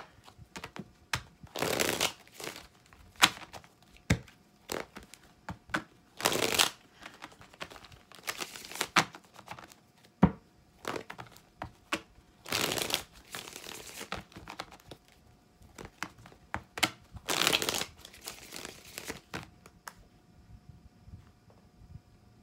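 A deck of tarot cards is shuffled close to the microphone in repeated quick riffling bursts with short pauses between them, set against a quiet background with no talking.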